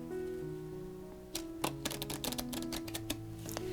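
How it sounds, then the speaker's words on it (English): A quick riffle of playing cards, a rapid run of crisp clicking ticks as the cards interleave, close and fairly quiet. "riffle shuffle them together"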